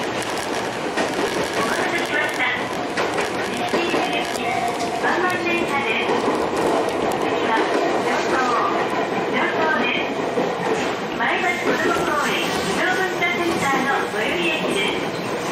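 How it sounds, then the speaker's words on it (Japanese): An electric train on the Jomo Electric Railway rolls through central Maebashi, Japan, with a continuous rumble and rhythmic clatter heard from inside the carriage, with voices faintly under the noise. "列車は中央前橋から前橋の市街地を東に進んでいきます。"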